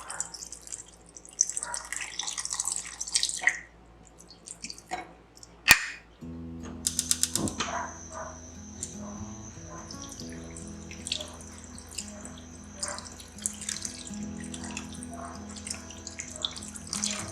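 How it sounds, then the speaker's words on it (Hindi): Water runs and splashes steadily into a cooking pot of beef for gravy, a continuous gurgling pour with metallic clatter near the start, close by and moderately loud. "अब हम इतना पानी डाल देंगे"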